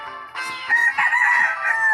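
A rooster crows once, loud and close, a strained, drawn-out cock-a-doodle-doo that wavers before fading.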